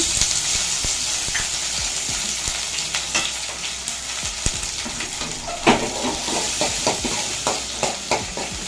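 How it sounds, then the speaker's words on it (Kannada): Sliced onions frying in a pan for a fish curry, a steady close sizzle with scattered spatters and stirring clicks running throughout, no talk. "ಇವಾಗ ಈರುಳ್ಳಿ ಹಾಕೋಣ ಈರುಳ್ಳಿ ಫ್ರೈ ಮಾಡ್ಕೊಳ್ಳೋಣ"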